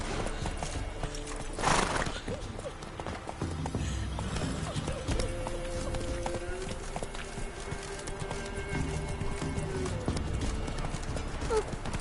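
A horse in the video game Witcher 3 gallops with rapid rhythmic clip-clop hooves, a whinny early on, and someone talking over the action.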